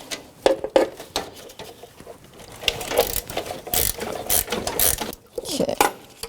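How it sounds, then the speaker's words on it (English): A ratchet wrench clicks in quick bursts while breaking loose the upper alternator mounting bolt on a 1984-2001 Jeep Cherokee, a close, dry pawl chatter repeating in short strokes with small pauses between. "I'm going to break this upper mounting bolt free."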